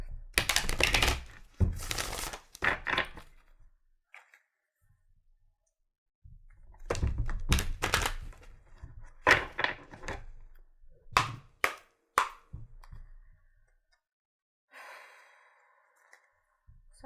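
Tarot cards being shuffled by hand give bursts of crisp riffling and clattering, close up, separated by quiet pauses, with a faint breathy sound near the end.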